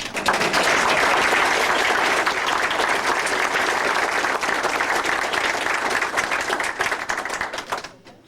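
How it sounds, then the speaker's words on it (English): A crowd at an Iowa presidential campaign event in fall 2003 breaks into sustained, loud applause, dense clapping holding steady for several seconds before tapering off abruptly at the end. "And yes, you're entitled to clap when I say that."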